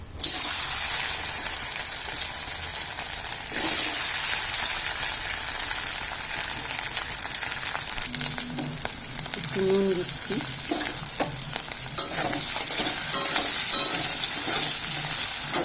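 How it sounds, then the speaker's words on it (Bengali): Boiled, diced potato pieces fry in hot oil with a steady, bubbling sizzle that runs evenly throughout, close and fairly loud, while a voice briefly speaks and a few utensil knocks sound near the end. "আলুটা একটু ভেজে নিচ্ছি।"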